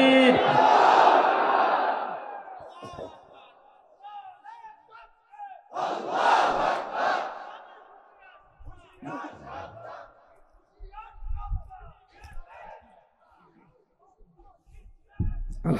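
A large crowd at an Islamic religious gathering shouts takbir in unison, a loud collective roar repeated a few times, then fades into scattered murmuring and a lone voice.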